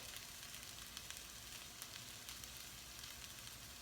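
Vegetable hash seasoned with cayenne and garlic powder sizzles and fries steadily in a pan, a dense, continuous crackle with small pops, fairly quiet and heard alone.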